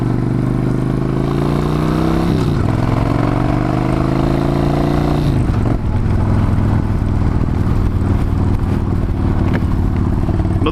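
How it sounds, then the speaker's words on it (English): A loud motorcycle engine runs close by while riding through traffic, its pitch stepping up and dropping as it shifts gears and revs, with no talking. "Another benefit of driving a motorcycle is fitting through traffic like that."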